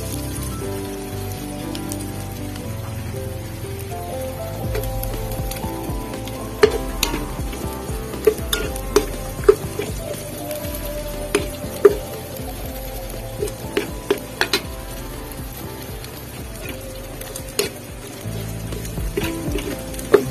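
Garlic sizzles steadily in a hot pan as it fries for adobong sitaw, a dense crackling hiss with scattered sharp pops and occasional stirring scrapes, close and continuous with no talking.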